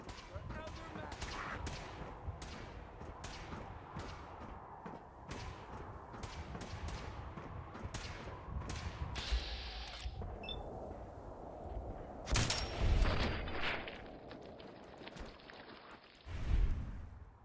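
Gunfire in a Fallout 4 firefight: repeated sharp shots in irregular bursts, with heavier thumps near the end, under shouted in-game voices.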